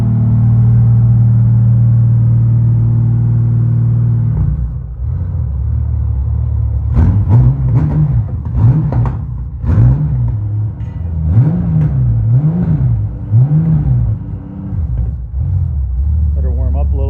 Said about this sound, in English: She revs up pretty loud.